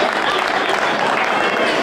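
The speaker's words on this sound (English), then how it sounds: "Y'all give Sherry Cottrell a round of applause" An audience at a proclamation presentation applauds the director of a community center: dense, loud clapping fills the short stretch evenly, with crowd noise mixed in.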